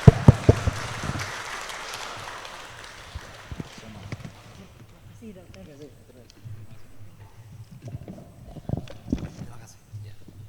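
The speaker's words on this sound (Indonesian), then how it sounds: "Beri aplaus yang meriah buat Pak Ali" Applause from a seminar audience at a workshop in a hotel in Malang, a broad burst of clapping that fades over the first few seconds, followed by scattered claps and murmuring voices.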